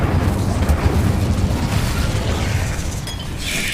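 A fire spell bursts in Hogwarts Legacy, giving a loud, rumbling whoosh with a heavy low roar that slowly fades over several seconds, with a bright flare near the end.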